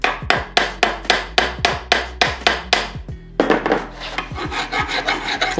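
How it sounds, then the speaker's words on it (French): A metal file scrapes copper pipe during plumbing work. The strokes are loud, close and rhythmic, about a dozen rasping passes, quickening toward the end, with no voices. "Faut le limer, mais pas trop, parce que tu sais, plus tu limes, bah, plus t'enlèves de la matière."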